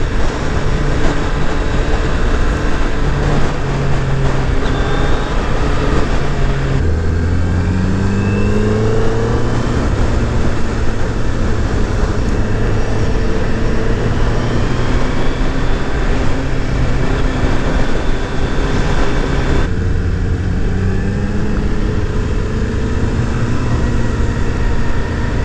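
A 2018 Suzuki Hayabusa motorcycle on a demo ride gives a loud, continuous engine drone with rising pitch sweeps as it accelerates and shifts gears, under steady wind roar and with no talking.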